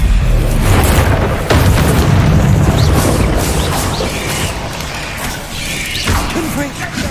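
The Bombarda explosion spell in a video game hits with a loud, close boom and a crashing burst. A rumbling tail fades over a few seconds, and a voice is mixed in.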